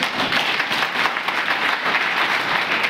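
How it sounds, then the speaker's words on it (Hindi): Applause at a BJP party meeting in Poonch, Jammu and Kashmir: a room of people clapping steadily together for about three seconds, dense and fairly close, with no voices over it. "ताली मारो इन्हें।"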